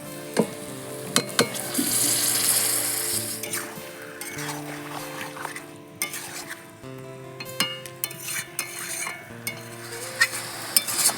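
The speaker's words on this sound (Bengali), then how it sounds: "পেঁয়াজগুলো লাল লাল করে ভাজা হয়ে গেছে এবার আমি মাংসগুলো দিয়ে দেবো" Chicken meat added to browned, reddish fried onions in a pan, a soft sizzle under frequent metallic clinks and scrapes of a spatula against the cookware, with a few sharper knocks.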